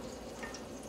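Duck curry fries in hot oil, a faint steady sizzle with soft crackles over about a second.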